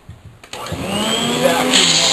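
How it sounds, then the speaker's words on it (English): A vacuum cleaner switches on after a moment of quiet and then runs close and loud with a steady broadband whine. "vacuum off."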